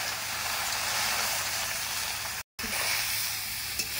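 Water hits a pan of lightly roasted semolina and sizzles steadily for several seconds, a dense hiss that continues after a brief break.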